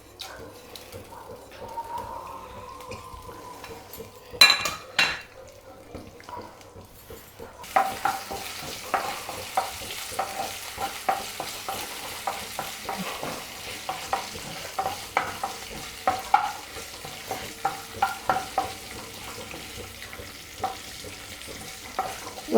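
Mustard seeds, dried red chilies, cumin and curry leaves fry in a tablespoon of oil for a tempering, giving a close crackling sizzle with frequent sharp pops and stirring clatter that grows busier after a quieter start.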